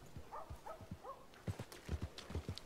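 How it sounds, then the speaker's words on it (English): In Red Dead Redemption 2 roleplay, a horse's hooves clip-clop at an even walking pace, the steps faint and close, with a few light bird-like chirps over them. "so this is gonna be your horse"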